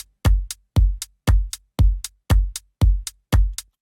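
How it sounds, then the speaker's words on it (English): Electronic organic house beat with layered clap samples, a short transient stab plus a longer layer, landing on the second and fourth beats over a kick and eighth-note hi-hat, repeating in a steady loop without voices. "And then I added some claps on every 2nd, 4th beat."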